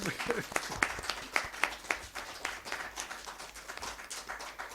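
Moderate applause from a small audience at a 40th-anniversary event for a self-management journal, individual claps distinct in an uneven patter that continues throughout.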